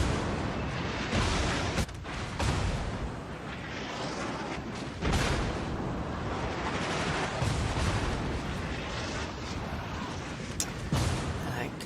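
Warship gunfire in the World of Warships naval battle game, with a dense, continuous rumble of booming artillery and explosions and a few sharper blasts, while a voice talks over it.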